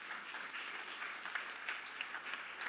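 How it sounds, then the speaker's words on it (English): Audience clapping continuously for judges at a startup competition, a dense patter of many hands at moderate distance, with no voices over it. "Can I get a big round of applause for our amazing judges?"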